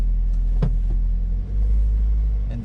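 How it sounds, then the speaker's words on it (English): A Toyota MR2 Spyder with an SMT gearbox creeps forward in first gear, its low engine rumble steady and close, with a few small clicks and knocks and no talk. "And the car moves forwards."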